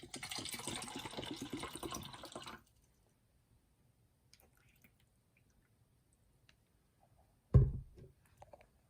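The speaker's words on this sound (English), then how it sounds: "Let's pour some water in." Aloha water pours steadily into a container for a couple of seconds, then stops; quiet follows, broken by a single low knock.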